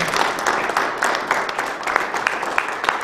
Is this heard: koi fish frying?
no